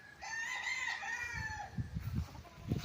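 A rooster crows once, long and clear, near the chicken coops on a farm lot in Liliw, Laguna, followed by a few low, thumping knocks close by.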